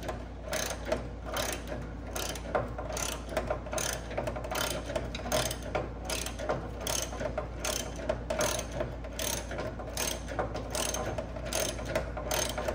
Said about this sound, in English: So then at that point, we can start taking this bolt free.